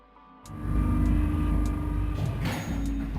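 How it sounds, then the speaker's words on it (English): An elevator motor in a video game grinds into a low, heavy rumble as the car descends, starting abruptly and holding steady and loud, with faint clanks over it. "they heard the grinding of the motor as the elevator car moved down"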